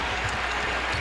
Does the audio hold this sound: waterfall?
no